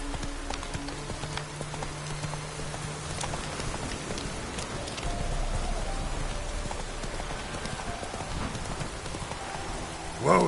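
Roach the horse gallops in The Witcher 3, steady clip-clop hoofbeats running under a constant rain-like wash, with a brief louder burst right at the end.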